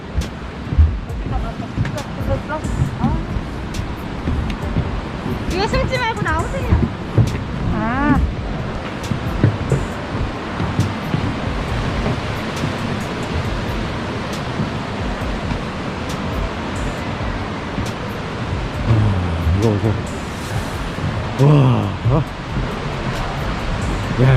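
The constant rushing roar of Yongchu Falls in Juwangsan fills the clip while people speak briefly over it now and then.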